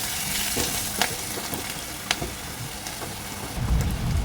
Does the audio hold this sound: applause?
no